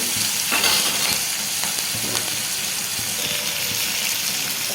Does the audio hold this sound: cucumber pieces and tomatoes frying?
yes